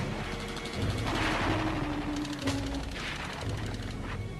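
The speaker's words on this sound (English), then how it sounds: "our comrades in the building barricaded the stairways and swept them with machine gun fire" Machine gun fire in an archival war scene, dense and continuous bursts of rattling shots with rumbling booms under a noisy, mid-distance mix.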